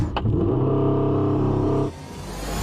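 Supercars, a Porsche, McLaren and Ferrari, roar away from a standing start with a loud, sustained engine drone that cuts off abruptly, leaving a lower rumble that builds again toward the end.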